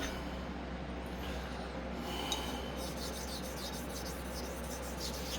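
Steel razor edge honed on a hone, a steady, soft, continuous rasping rub running throughout at low level, close and alone.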